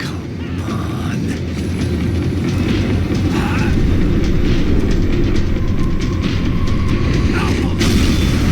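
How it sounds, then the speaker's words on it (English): A tram in the video game Max Payne 3 rattles and clanks along its rails as it slows, with loud rumbling, metallic ratcheting and scattered squeaks. "The tram was slowing down"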